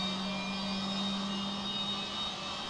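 Simulated jet engines whirr steadily in the Prepar3D v5 flight simulator as they spool up, a constant turbine drone with a low hum running throughout, alone with no talk.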